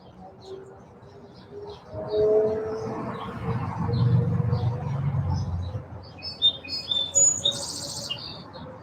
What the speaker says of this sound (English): Sometimes it's just nice to listen to the birds and the passing of cars.